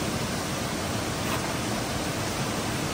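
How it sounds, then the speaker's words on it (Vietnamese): Floodwater from heavy rain roars through a river in a Hà Giang village, a loud, continuous broadband rush with no pauses and no voices. "Lũ rất to, nước về rất nhiều rồi."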